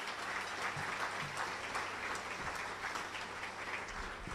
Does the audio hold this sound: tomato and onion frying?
no